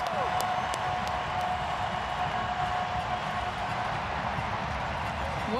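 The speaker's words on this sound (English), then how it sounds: "to hear the crowd go the way they're going in this moment, and you just hear the Bailey absolutely erupting" Football stadium crowd roaring after a goal by a Brazilian player, a dense, sustained wall of cheering noise that holds steady throughout, with no pauses.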